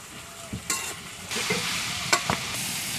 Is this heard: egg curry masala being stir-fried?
yes